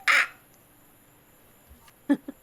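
A person imitates a raven with a loud, harsh squawk at the start, then after a pause gives another raspy caw followed by two shorter croaks, close in a quiet room.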